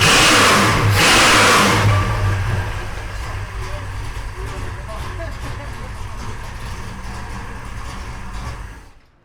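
An Oldsmobile 442 that sat for two years starts for the first time and revs loudly up close. It roars at the start, then settles into a steady, rough run before cutting out at the end.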